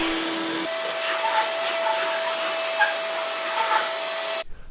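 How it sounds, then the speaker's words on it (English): Shop vacuum running steadily in a garage, sucking up rust dust after surface prep of a motorcycle or ATV exhaust muffler, a constant whining drone with a brief pitch shift at the start and an abrupt cutoff at the end. "I'm gonna go ahead and vacuum up all the dust so we don't contaminate our pieces"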